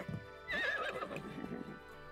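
In The Sims 4, a horse gives one loud, close whinny that rises and quavers for about a second, with soft background game sounds before and after.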